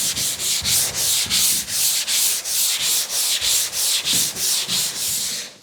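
Polyester primer on a 1940 Ford being block sanded with 120 grit sandpaper: steady back-and-forth rasping strokes in an even rhythm, close and loud, about two strokes a second with no talk.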